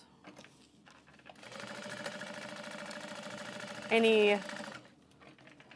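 A sewing machine quilts fabric for a train case, running in a steady fast mechanical hum with rapid needle ticking for several seconds while someone talks over it.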